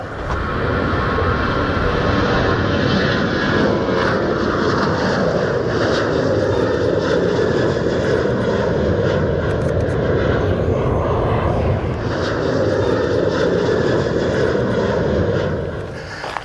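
A fixed-wing aircraft takes off, its engine roar loud and steady throughout, swelling slightly as it passes close by and then holding.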